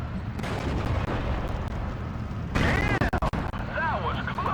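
An anti-tank gun fires amid battle in the WWII strategy game Steel Division 2, with dense rumbling combat and several sharp booming shots, under a voice talking.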